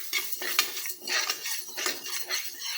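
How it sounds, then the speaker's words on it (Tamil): Moong dal dry-roasted in a pan: repeated stirring scrapes of a spoon against metal with rattling grains, close and moderately quiet, in short uneven strokes. "நல்லா வாசம் வர வரைக்கும் வறுத்துக்கலாம்"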